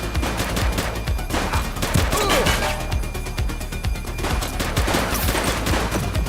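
A loud, chaotic exchange of gunshots in a police video game, with overlapping rapid shots, crashes and impacts filling the whole stretch, and faint voices mixed in.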